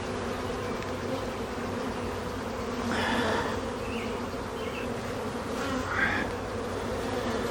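Honeybees drone steadily around an opened backyard hive under Demaree swarm control, a dense continuous hum close by with a few louder individual buzzes swelling past near the three- and six-second marks.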